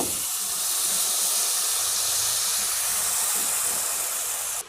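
Tamarind water poured into a hot pan while making tamarind aval: a steady, loud, broadband hiss and sizzle that runs without a break and cuts off abruptly at the end.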